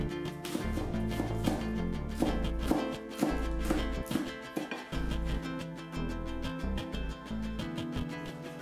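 A kitchen knife chops peeled potatoes into small pieces on a cutting board, making quick, close, steady rhythmic knocks with a few short pauses.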